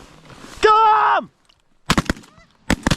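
A loud honk from geese during an early-season goose hunt in North Dakota, followed by sharp gunshots, one of them a quick double.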